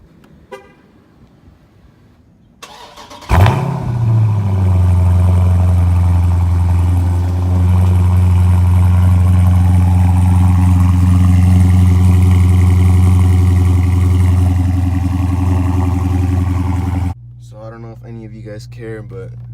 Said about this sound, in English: I'm gonna do a cold start on this.